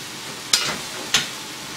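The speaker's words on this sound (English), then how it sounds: "you just want to give it a quick stir and it's going to wilt really fast" Zucchini, yellow squash, onions and garlic sautéing in a pan get two quick stirs, each a short scraping swish over a soft, steady sizzle.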